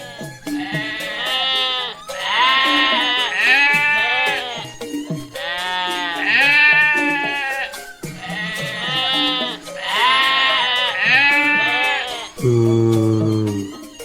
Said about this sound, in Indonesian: Di sini banyak kambing